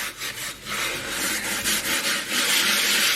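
Brisk, steady scrubbing on a cast iron griddle, a continuous harsh rasping scrape with slight surges in intensity, close and fairly loud with no talking.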